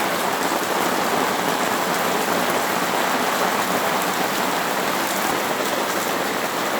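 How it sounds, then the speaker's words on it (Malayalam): Heavy rain pours down steadily in a dense, continuous hiss that stays loud and unbroken throughout, with no voices over it. "See, നല്ല മഴയാണ് കണ്ടല്ലേ?"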